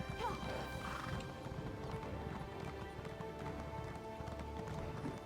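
A horse clip-clops at a steady ride in Elder Scrolls Online, its hooves drumming continuously while a whinny rises early on; no voices break through.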